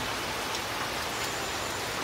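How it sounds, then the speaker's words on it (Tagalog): Heavy rain pours steadily outdoors, a loud, dense, unbroken hiss of drops with no voices over it. "Pero ang lakas na ng ulan."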